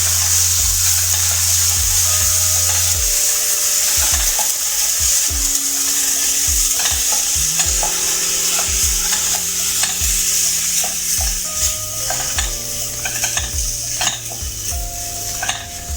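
Rava upma cooking in a pan on lowered heat with boiling water, a spoon repeatedly scraping and clinking against the pan in a steady rhythm over a soft bubbling sizzle.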